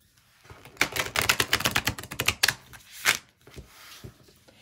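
A quick burst of rapid riffling and clicking as a deck of tarot cards with a slightly sticky feel is shuffled, followed by a few softer taps and shuffles.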